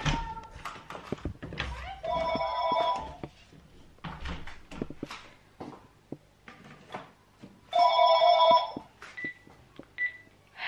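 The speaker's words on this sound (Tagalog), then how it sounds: "Si Eric tumawag sa telepono." A telephone rings indoors at home in two separate bursts a few seconds apart. Each burst is an electronic trill, heard among tapping and knocking noises and a little background voice.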